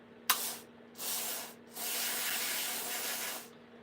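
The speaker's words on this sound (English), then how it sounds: "Just get a bit of this and spray it on there." Cleaner sprayed onto a dust filter in a woodworking shop: a sharp initial spritz, then two longer hissing bursts, close and fairly loud against a faint hum, with no talk.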